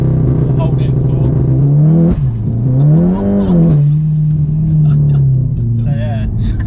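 A Stage 2+ tuned VW Golf R engine held on launch control, its revs climbing and dipping in a loud, close, buzzy drone with one sharp surge partway through.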